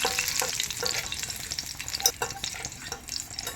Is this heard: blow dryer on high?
no